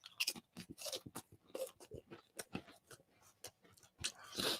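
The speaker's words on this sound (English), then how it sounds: "I know he just put a cracker in his mouth while he live streaming." Someone chews a cracker close by, with loud repeated crunches and bites arriving in irregular bursts, some sharper than others, all heard alone with no talk.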